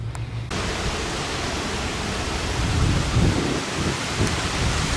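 Thunderstorm with heavy steady rain hissing loudly throughout and low rolling thunder rumbling beneath it, no voices present.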